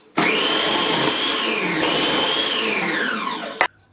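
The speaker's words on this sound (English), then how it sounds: "Then they need to be finely sliced. I'm using the food processor for that." A food processor whirs loudly as it slices peeled onions, a steady high motor drone lasting about three and a half seconds, its pitch sagging slightly under load before it cuts off abruptly.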